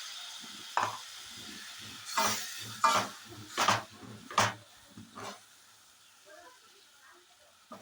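Bursts of sizzling and hissing from a hot pan as water is added to frying cashew-curry masala, several sharp sputters in a row, with stirring and a few soft clinks, then quieter crackling.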